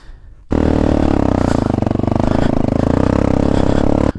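A motorcycle engine on a rough mountain road under construction between Tarlac and Zambales kicks in loud and close after a brief quiet start, then drones with a steady rattling throb to the end.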